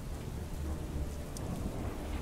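Steady heavy rain pours with a low rumbling undertone of thunder, a dense continuous storm wash filling the whole stretch with no voices.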